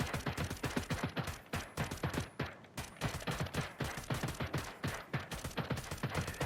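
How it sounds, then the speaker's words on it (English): Rapid single-shot fire from an M4A1 rifle in Ghost Recon Breakpoint, dozens of sharp, loud reports in quick, slightly uneven succession with no pauses, filling the whole stretch alone. "Let's just go mad and shoot as many as we can on single shot and see what the accuracy is like."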